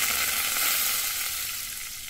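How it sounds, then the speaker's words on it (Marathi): Cumin, asafoetida and curry leaves sizzle in hot mustard oil for a tempering, a loud, dense, steady frying crackle throughout. "जिरे तडतडल्यावर हिंग चिमूटभर"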